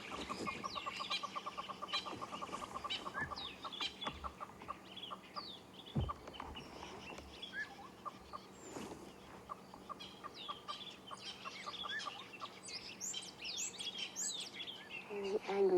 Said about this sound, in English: The angry birds.